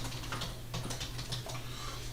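Quick, light keystrokes patter on a computer keyboard in an irregular burst, close and fairly quiet over a low steady hum.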